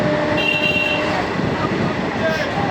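Passenger train on the inaugural special run from Krishnanagar to Amghata, heard as a steady, loud rumble of rolling wheels and carriage noise throughout, with faint whistle-like tones and voices mixed in.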